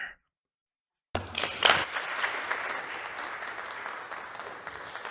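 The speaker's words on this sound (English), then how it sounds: "Getting a rousing round of applause from the 13 people in the room" A small group of about thirteen people in the House chamber gives a thin, scattered round of applause after Kevin McCarthy's farewell speech. It starts suddenly after a silence, then settles into steady, moderate clapping.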